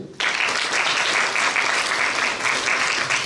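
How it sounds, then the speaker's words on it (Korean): A lecture-hall audience at a police training centre breaks into dense, loud applause that starts abruptly and holds steady for a few seconds, with no talking over it. "네, 박수 한번 치세요."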